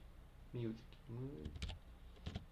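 Keys clicking on a computer keyboard at a Linux Bash terminal, a few quick taps such as the Tab key, heard close and fairly quiet beneath a person talking.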